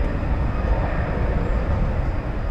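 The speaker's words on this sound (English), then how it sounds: "We've got a Frontier plane about to take off here." A Frontier Airlines jet preparing to take off at DFW Airport at night gives a steady, broad engine roar, moderately loud and constant, with no talking.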